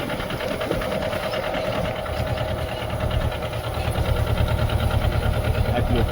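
Mini tractor in first gear running a four-nozzle pesticide sprayer: a steady, rapid mechanical engine chatter close by, continuous and fairly loud, growing slightly stronger toward the end, with no talking.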